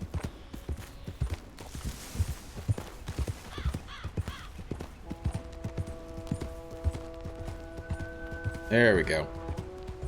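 Hoofbeats of a horse in the Western video game Red Dead Redemption clop along steadily under frequent talk, with game music tones entering partway and a louder burst near the end.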